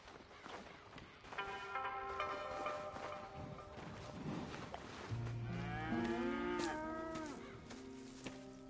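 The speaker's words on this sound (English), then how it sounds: "Here's the cows." Cattle in the Red Dead Redemption 2 game, several cows mooing near and fairly loud, with long low calls overlapping one another over a faint background of steps.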